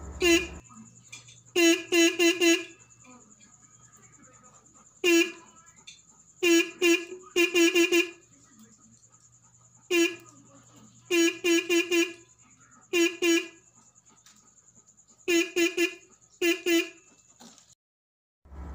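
Car horn with a passing-light trigger honks in repeated bursts of two to four short toots separated by pauses, loud and close, over a steady electrical hum.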